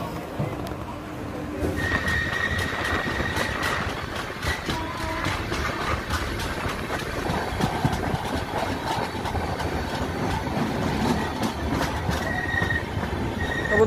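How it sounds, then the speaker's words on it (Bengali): The Howrah–Malda Intercity Express pulls out of a station on a two-minute stop, its wheels rumbling and squealing and its carriages clattering rhythmically close by, with people talking in the background. "2 মিনিটের স্টপ, বেরিয়ে যাচ্ছে আমাদের ট্রেন।"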